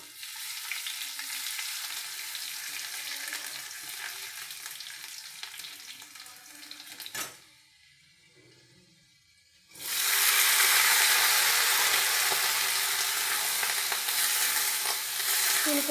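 Ginger and then garlic frying and being stirred in oil, a bright, steady sizzle close by that drops away for a few seconds before surging back louder and continuing, no voices.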